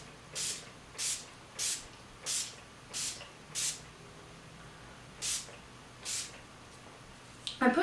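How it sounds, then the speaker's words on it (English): Makeup setting spray misted from a pump bottle before lipstick, eight short airy hissing sprays in a fairly even rhythm, close and distinct, with a brief rustle at the end. "I'm going to spray my setting spray."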